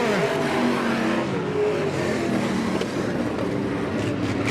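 Stock race cars in a 25-lap feature at I-96 Speedway roar around the oval, a dense, loud engine drone with rising and falling revs as cars pass, steady and continuous with no talk over it.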